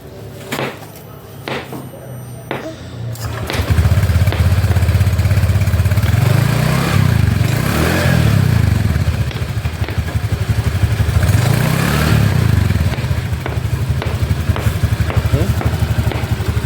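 An automatic scooter, freshly given a routine service, cranks and starts after a few seconds of quiet clatter, then settles into a steady, fairly loud idle with a low pulsing drone that continues to the end.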